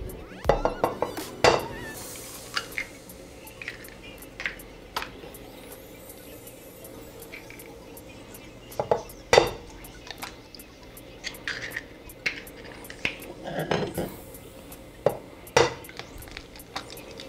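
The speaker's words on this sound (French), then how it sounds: "la spatule est très utile pour décrasser un bol ou bien récipient où on mettait ingrédients" A spatula works around a mixing bowl of crepe batter made with honey and eggs, giving close, intermittent clinks and scrapes in irregular bursts with quieter gaps between.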